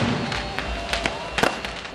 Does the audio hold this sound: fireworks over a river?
yes